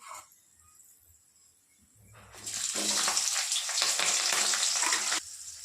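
Onions and green chilies hit hot oil in a pan for upma, bursting into a loud, close, steady sizzle that holds for about three seconds before easing, after a quieter stretch of faint kitchen noise.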